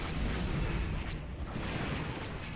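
Missiles firing in a space battle from the Stellaris video game, heard as a dense, continuous rumble of booms and bursts, loud and sustained with no speech.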